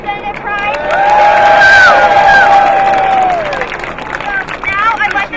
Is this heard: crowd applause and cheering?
yes